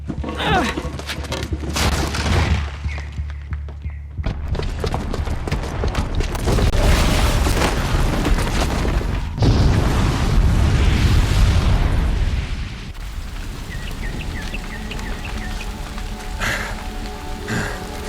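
A booby-trapped bomb going off in Horizon Zero Dawn: a dense, roaring wash of explosive rumble and crackling debris lasts many seconds and swells to a peak before easing into a quieter rumble with light scattered crackles.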